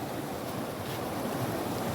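Steady broadband rush of a flowing river in Uttarakhand, an even, unbroken wash of water noise with some wind buffeting, heard close and alone with no voices.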